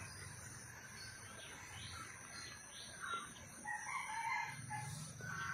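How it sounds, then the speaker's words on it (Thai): Roosters crow in the early morning, faint and distant, with a steady chorus of crickets and insects underneath; a louder crow rises near the end. "เสียงก็ไก่ขันก็"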